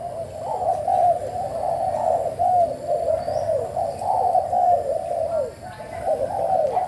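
Large Malay-line zebra dove (spotted dove type) cooing repeatedly in steady rhythmic phrases, close and clear over a low background hum, with no talking.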